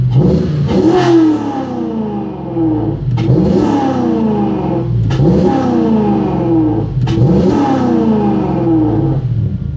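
A Toyota 1UZ V8 engine with an induced throttle position sensor fault revs up and drops back four times in a steady, repeating cycle, loud and close, with no one talking.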